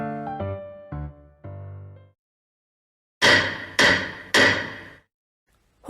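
A judge's gavel in a courtroom trial: three sharp, loud wooden strikes in quick succession, each ringing briefly, following a few lower resonant knocks earlier.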